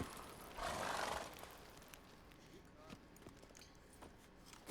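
Hooves of the horse Roach in The Witcher 3: Blood and Wine, a brief loud rushing surge near the start followed by soft scattered hoof and movement sounds over quiet ambience, with a voice speaking.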